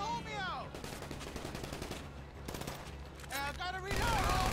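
Rapid bursts of automatic gunfire fill a Grand Theft Auto V shootout, loud and dense, with faint voices and game sounds between the volleys.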